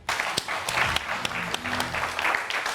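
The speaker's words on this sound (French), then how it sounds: "Et ça s'applaudit." Audience applause on a televised talk and game show: broad crowd clapping with a few sharp individual claps standing out, and faint voices murmuring underneath throughout.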